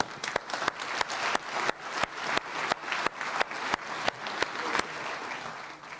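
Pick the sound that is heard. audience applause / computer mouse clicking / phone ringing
audience applause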